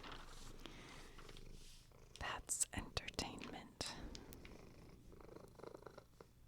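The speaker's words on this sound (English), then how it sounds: "He's purring awfully loud." A male cat purrs quietly in a continuous low rumble close to the microphone, mostly beneath soft whispered speech and a few light handling noises.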